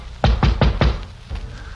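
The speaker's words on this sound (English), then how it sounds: "We went up a flight of carpeted stairs and knocked on the door of 2A." Knocking on an apartment door at the top of carpeted stairs: four firm, evenly spaced knocks, close and clear, followed by a fainter fifth knock after a short pause, with no voices.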